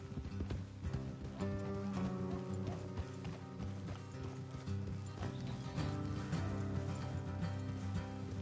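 Horses gallop in Red Dead Redemption 2, a steady rhythmic clip-clop of hooves under a continuous bed of game music and ambience, fairly close and consistent throughout.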